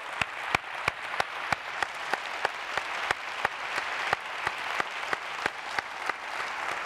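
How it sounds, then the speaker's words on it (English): An audience applauding after a conference keynote, with dense steady clapping from a crowd in a hall, loud and continuous for several seconds and no talking over it. "One more round of applause."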